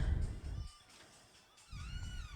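A house cat meows faintly in the background, a couple of drawn-out cries over low rumbling room noise.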